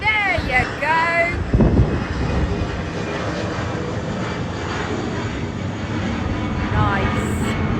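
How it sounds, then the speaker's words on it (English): A fixed-wing airplane flies overhead in Ibiza with a broad, steady engine roar that fills the scene, loud and sustained throughout, mixed with some wind noise outdoors. "Oh, plane, plane, plane."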